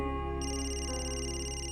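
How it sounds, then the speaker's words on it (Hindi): A mobile phone ringtone plays steadily in a domestic setting, a sustained electronic melody with stacked tones that stays loud and continuous throughout, with no talking over it. "फोन रिंग हो रहा है, उठाओ से।"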